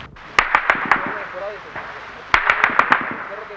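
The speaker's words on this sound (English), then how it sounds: "the sound of distant gunfire" Distant gunfire during the civil war in El Salvador, heard around the small town of San Lorenzo: sharp cracking shots come in two quick volleys of several rounds each over a hissing outdoor background.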